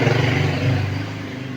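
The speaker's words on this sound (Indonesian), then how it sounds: "tadi ada suara motor lewat ya" Motorcycle passing by close outside, a brief rumbling engine drone that fades slightly as it goes.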